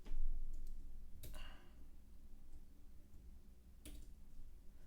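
A computer mouse clicks twice, a second or so apart and about two and a half seconds from each other, as sharp, faint taps over a low background hum.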